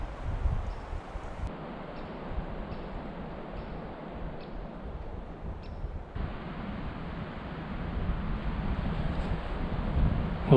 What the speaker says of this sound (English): Tell you what, it's going to be a windy night as well.